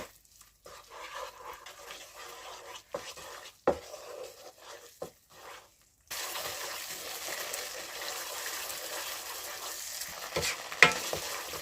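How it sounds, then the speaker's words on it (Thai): Thai curry paste is stirred and fried in heated coconut milk in a large pot, with scraping spatula strokes and a steady sizzle that grows louder and denser in the second half. "จะผัดพริกแกงให้หอมนะคะ"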